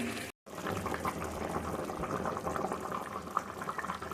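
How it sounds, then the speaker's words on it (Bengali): Chicken curry boiling in a pot, a dense, continuous bubbling and gurgling heard close, after a brief cut near the start. "চিকেনটা টকবক করে ফুটছে"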